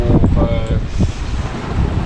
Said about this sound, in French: On a des rafales de 24-25, sinon 21-22 établis.